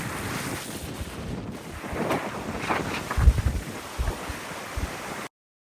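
Big ocean swell with whitecaps and strong wind aboard a Nautitech sailing catamaran surfing waves on an Atlantic crossing: steady broadband wind and water rush with mic buffeting, louder low thumps of waves near the end.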